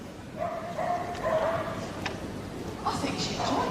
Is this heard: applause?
no